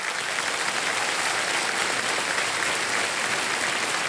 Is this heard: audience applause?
yes